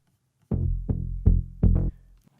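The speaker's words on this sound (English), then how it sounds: "like the bass sounds like this" A deep synth bass from a house remix plays four punchy, decaying notes in an uneven rhythm. The notes are loud and close, with a short silence before and after them.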